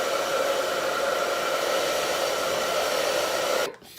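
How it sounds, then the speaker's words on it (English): A blow dryer roars steadily on hair edges in a close, loud, continuous whoosh before it cuts off abruptly near the end. "I'm gonna take the blow dryer on my edges"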